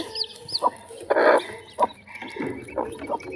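A mother hen and her fourteen chicks on a chicken farm, with close clucks and short squawks in an uneven rhythm and high chick peeps in between.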